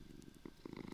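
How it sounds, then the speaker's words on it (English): A cat purrs in the game New World, soft, low and rhythmic, faint and close with no talk. "It's purring."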